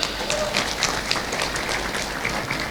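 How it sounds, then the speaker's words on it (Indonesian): At an Islamic boarding school thanksgiving ceremony, an audience gives a short round of hand clapping, fairly loud and evenly spread over a couple of seconds, with a faint murmur of crowd noise underneath. "Tepuk tangan dulu."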